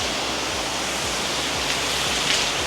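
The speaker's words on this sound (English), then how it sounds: "We're going to apply our house wash." A pressure washer sprays house wash solution onto a house in Pinellas Park, Florida, a dense, even hiss of spray running continuously and close, with no voices.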